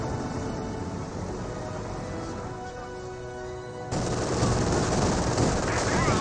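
M1919 machine gun fire rattles in a World War II strategy game, a dense, sustained stream of shots that grows louder and harsher partway through, with game sounds underneath.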